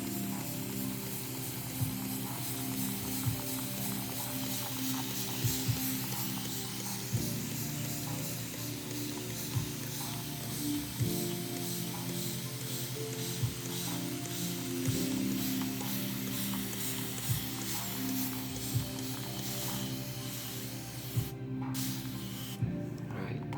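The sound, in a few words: spray bottle spraying water to soak seeds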